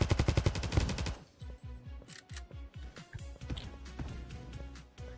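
Shotgun blasts in the online shooter Kirka.io: a fast, loud string of roughly nine evenly spaced shots, then scattered lighter clicks and gunfire trailing off.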